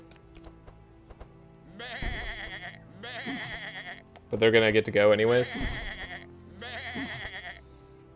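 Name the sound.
sheep bleating in the video game Across the Obelisk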